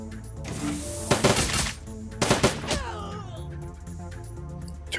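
Turret gunfire in the Dragonfall video game: two loud bursts of rapid automatic fire over a busy game soundscape, followed by descending whooshing effects.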